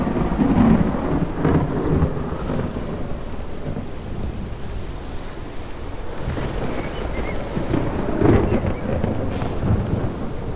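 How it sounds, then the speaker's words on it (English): Thunder rumbles through a thunderstorm with steady rain, deep rolling booms swelling twice against a constant wash of rainfall and wind. "they fall violently into neighboring clouds and thunder is produced"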